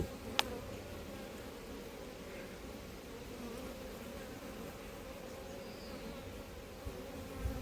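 Honeybees buzz continuously around an open hive at an apiary, a steady low drone of many wings close by, with a brief tap near the start and no speech.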